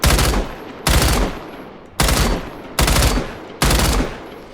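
Five separate short bursts from a PK machine gun in the Badlanders video game, each a loud sharp onset of rapid fire that decays quickly before the next, spaced roughly a second apart.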